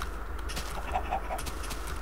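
A few soft, quick clucks from a chicken in Minecraft, fairly faint, over a steady background hum.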